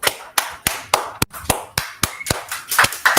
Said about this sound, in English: So a big round of applause for Mauro.